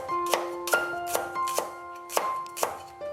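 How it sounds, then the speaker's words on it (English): Small chilies smashed with a knife on a board: six sharp, evenly spaced thwacks, close and crisp, with quiet gaps between them. "We will smash the small chilies with a knife also"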